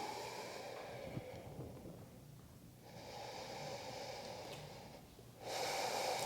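Breathing through the nose during a yoga-style workout, slow loud breaths close to the microphone, rising and falling in a few long cycles with a forceful exhale near the end.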